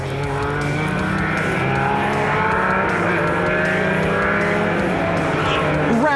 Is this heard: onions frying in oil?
no